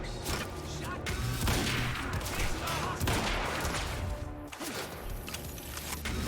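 Sniper gunfire from the video game Quantum Break, a dense, continuous fusillade of shots and impacts over game noise, loud and sustained throughout, with a voice now and then.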